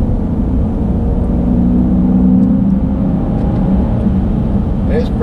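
A 2013 Dodge Durango Citadel SUV with a 5.7 liter Hemi V8 accelerates in third gear, a steady low engine drone and rumble running throughout, heard from inside the cabin.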